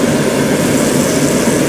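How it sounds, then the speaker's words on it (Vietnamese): Zoomlion EH100E combine harvester engine running steadily, a loud, constant broadband roar with deep low rumble throughout, close by and without talk. "Các bạn nghe cái hơi máy này các bạn biết rồi ha"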